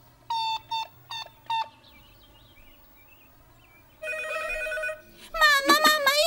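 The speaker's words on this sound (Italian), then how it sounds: "io ti ho telefonato e ha squillato!" Telephone ringing in an Italian children's cartoon: four short electronic ring bursts in a quick rhythm, then a sustained buzzing tone and a louder warbling ring at the end, with no talk during the rings.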